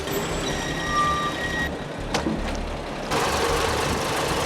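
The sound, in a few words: tractor engine loading seaplanes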